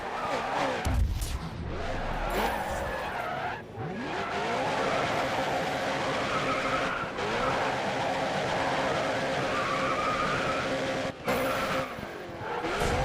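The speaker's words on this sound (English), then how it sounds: "Drift points, get some drifting in the corners here." Racing cars drift through corners in GRID Autosport, engines roaring loud and steady with tire squeal and skidding woven in, plus a few brief impacts and dropouts.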